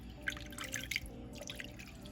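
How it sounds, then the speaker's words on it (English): Water poured into a pan around corned beef, a brief run of soft dripping and splashing spatters, quiet and close. "You want to place the water around the meat."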